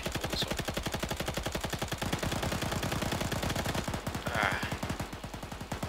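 Sustained automatic gunfire in an Arma-style military video game, a long rapid string of closely spaced loud shots firing steadily for several seconds with no talking over it.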